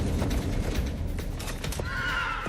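Conquistador horses clop and stamp close by, and a high, wavering neigh rises near the end.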